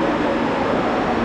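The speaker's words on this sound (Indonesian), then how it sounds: "Ini adalah kereta api cepat dari Madinah ke Mekah dan bisa top speed 300 km per jam." Interior of the high-speed train running from Medina to Mecca at up to 300 km per hour, a loud steady rushing rumble heard from inside a passenger car.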